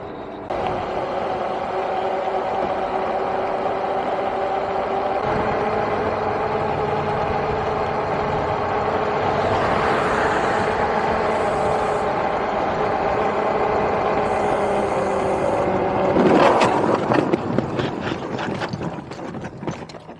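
Heavy freeway traffic roars steadily around a Super73 e-bike as it rides onto the highway, with loud engine drone throughout and a burst of clattering noise near the end.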